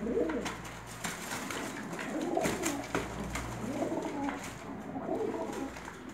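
A male pigeon coos repeatedly in soft, rolling phrases close by, with faint background hum and no speech.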